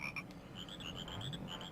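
Frogs croak in the Banjo-Kazooie video game, a run of repeated croaks over a watery level ambience, fairly close and steady throughout.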